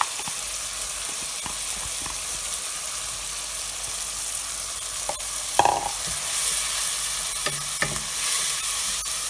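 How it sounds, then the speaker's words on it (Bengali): Washed kalai lentils hit hot oil in a pan and are stirred, giving a steady soft sizzle with occasional scraping clicks of the spoon, close and continuous, no talking. "এখন আমি এই ধোয়া কলাইয়ের ডালগুলো দিয়ে দেবো।"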